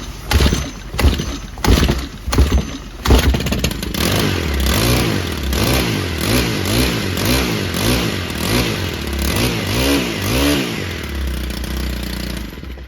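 A Stihl 4-MIX engine with newly replaced fuel lines takes several sharp starter-cord pulls, then catches and runs loud and close, its revs rising and falling in repeated waves.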